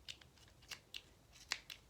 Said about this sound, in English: Make sure you cut all the way down through all the yarns.